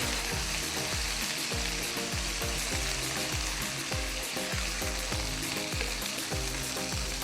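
Chopped bottle gourd frying in hot oil with three green chillies, a steady, loud, close sizzle with a rhythmic scraping of a spatula stirring through it the whole time, no voices.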